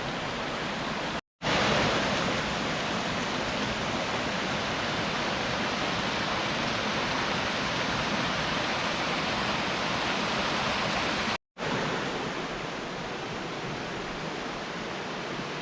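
MacGregor Falls pours down in a steady, dense rushing roar that stays loud and even throughout, broken only by two very brief gaps, with no voices.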